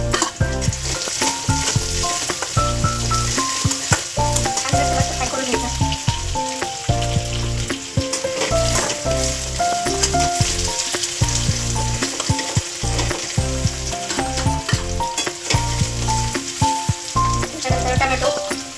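Onion, mixed vegetables and capsicum fry in a pan for street-style veg chowmein, giving a loud, continuous sizzle with stirring under background music.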